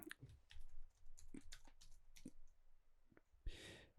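A computer keyboard clicks in short, uneven bursts as a recipe name is typed into a beer-brewing app, close and quiet, with brief pauses between keystrokes.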